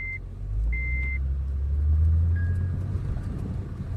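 A 2004-2008 Acura TL on Maxspeedingrod T7 coilovers rolls over a big bump on a rough road, a deep low rumble and thud swelling through the cabin amid steady road noise, with no talk.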